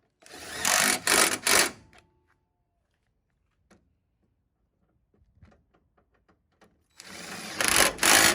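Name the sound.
power tool bolting down car bumper and hood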